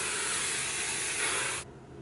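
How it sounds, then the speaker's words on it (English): Hairspray sprayed onto hair styled in space buns, one continuous close hiss lasting under two seconds before cutting off abruptly. "I'm about to put some hairspray on."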